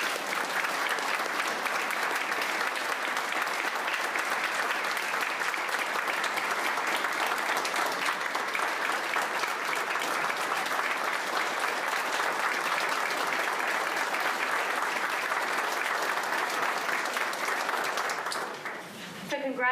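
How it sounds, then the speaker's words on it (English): Sustained applause from a luncheon audience at a health care professionals awards event, dense and steady for nearly twenty seconds before fading briefly at the end, with voices mixed into the crowd. "deserves another round of applause"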